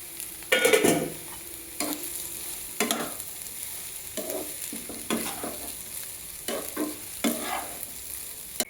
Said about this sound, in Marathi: यामध्ये आपल्याला शिजलेला भात टाकून मस्तपैकी परतून घ्यायचा आहे